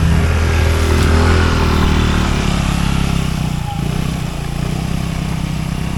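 A motorcycle taxi (ojek) engine drones steadily while riding, loud and close, with wind noise and a slight dip in pitch partway through.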